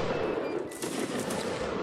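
Musket volleys in a Napoleonic-era line battle video game, a brief burst of crackling shots in the middle of the clip over a constant battlefield din, moderately loud and with no voices.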